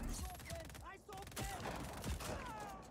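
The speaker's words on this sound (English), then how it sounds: "I'm gonna switch to my shotgun because I need to." Shotgun blasts and gunfire in the action video game Just Cause 4, loud repeated shots layered with game music and effects, with someone talking over the action.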